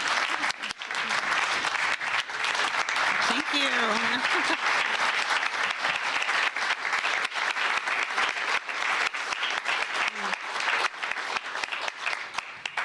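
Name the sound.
audience applause at a gathering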